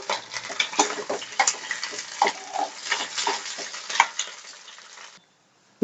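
Tomatoes sizzling in hot oil in a pan for bun dosa, with a steady crackling fry and irregular scraping and stirring clatter, close and fairly loud before stopping abruptly.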